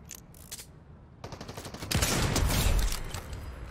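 Rapid gunfire in the Fortnite video game, with an enemy firing from a blimp: short bursts at first, then a louder, denser fusillade in the second half, heard alone with no talk.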